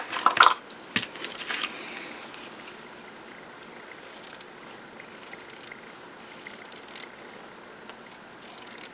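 Scissors cut out a fabric circle, giving a few crisp snips close up at the start, then a faint, quiet rustle of cloth.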